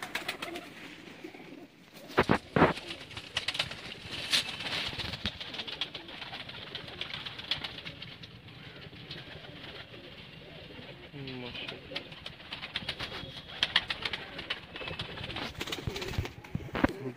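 Fancy pigeons kept by a pigeon fancier in Sialkot, cooing in soft repeated bursts amid constant rustle and background noise, with people talking over them throughout.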